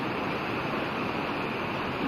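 A natural river runs over rocks, giving a dense, steady rushing wash of water that stays even and close throughout with no voices.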